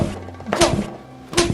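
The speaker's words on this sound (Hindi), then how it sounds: "इतना भी मत मारो यार, हमारे स्कूल पे पुलिस केस हो जाएगा" Blows land on a person in a school scuffle: a couple of dull, heavy thumps, one around the middle and another near the end, close and fairly loud over a low background hum.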